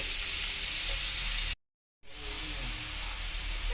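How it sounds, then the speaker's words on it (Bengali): Papaya pieces fry in a pan with tempering spices for a papaya chutney, giving a steady, close sizzling hiss with light stirring scrapes. The sound cuts out for a moment midway and then carries on just as loud, with no voices. "তখন আমি এই পেঁপেগুলোও দিয়ে দেব। এটা একটু নেড়ে চেড়ে ভেজে নেব"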